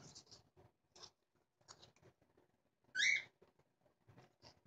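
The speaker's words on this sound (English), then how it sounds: "That's the bird in the background, Mr. Eddie." A bright, shrill bird chirp rises briefly in the middle, heard over quiet, intermittent talking and faint handling sounds nearby.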